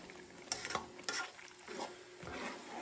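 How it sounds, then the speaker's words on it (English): Homemade gravy for fried pork chops stirred in a pan on the stove, soft scraping strokes and faint bubbling at low volume with no talking. "Give this a quick little stir here."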